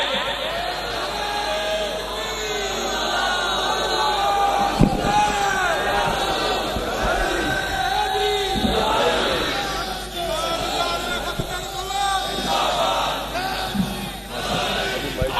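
A large crowd gathered for the Urs of Hazrat Khawaja Zinda Peer raises loud collective voices, sounding close and sustained for the whole stretch, with shouted swells and occasional thumps rising above a dense roar.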